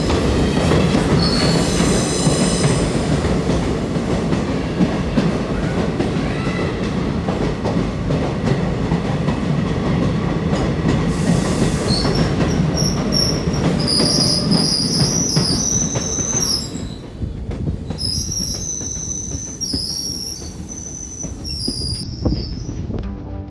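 A passenger train on the Kollam to Sengottai line enters its fourth tunnel, wheels squealing loudly in sustained high-pitched shrieks over a dense, close rolling roar that drops slightly near the end.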